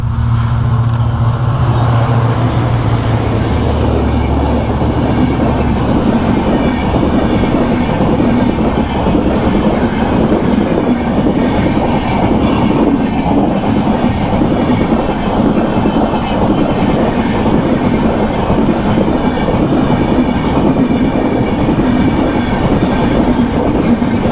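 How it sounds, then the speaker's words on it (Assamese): A train rumbles loudly past a level crossing at close range in Assam, wheels clattering steadily on the rails for the whole stretch, with no talking. "ট্ৰেইন এখন আহিছে ৰখি আছোঁ আৰু ট্ৰেইন গেটত"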